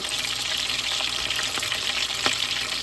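Lumpia shanghai deep-frying in a pan, with a steady loud sizzle and bubbling oil and occasional soft clicks as the rolls are turned over.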